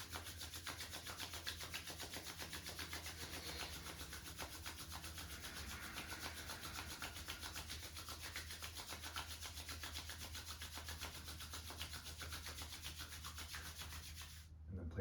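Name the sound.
hands rubbing together briskly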